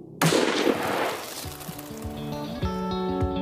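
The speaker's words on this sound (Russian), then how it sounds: "И вот он, выстрел." A single shotgun blast goes off during a guided shooting session in the countryside of Uzda District, a sharp loud report followed by a long fading rumble and echo, with faint voices murmuring in the background.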